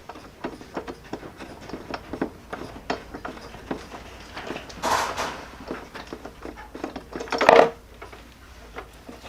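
A 3/4 socket wrench ratchets a spark plug out of a Lawn Boy lawn mower, giving a steady run of close, quick clicks with a louder clunk near the end.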